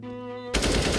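Gunfire in a first-person shooter game bursts in loud and dense halfway through, cutting off a steady tonal hum that plays before it.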